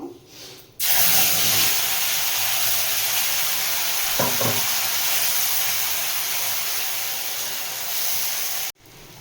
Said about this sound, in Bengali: পেস্টটা দিয়ে ভালো করে কষিয়ে নেব